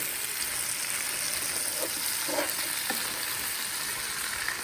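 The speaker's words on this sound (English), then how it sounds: "after you add every seasoning, you stir it up" Chicken sauce piquante seasoned with Creole spice in a pot, with a constant loud bubbling sizzle and a few soft scrapes of stirring partway through.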